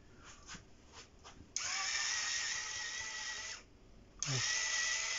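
An electric screwdriver backs screws out of an old laptop: a few quiet clicks, then two loud, high whirring bursts, the first lasting about two seconds and the second starting after a short pause.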